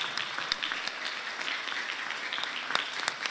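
An audience applauds children on stage, a steady wash of dense clapping with a few sharper claps standing out, continuous and moderately distant throughout.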